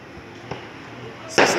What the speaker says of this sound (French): c'est des tirs de bombes lacrymogènes